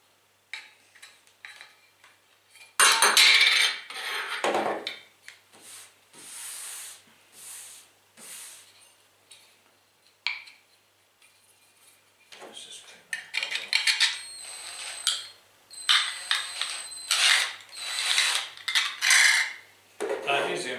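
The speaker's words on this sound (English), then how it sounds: "That step cutter does produce a nice clean hole there." A step cutter bores through a metal jam jar lid in short, harsh grinding bursts separated by pauses, with scraping and rattling as the bit steps up in size.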